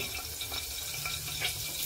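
Curry leaves drop into hot oil in a pressure cooker for tempering and give off a steady bright hiss and crackle that stays fairly even across the short moment.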